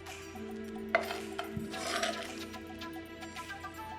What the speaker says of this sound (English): Just gonna use a spoon and spoon a little bit into each.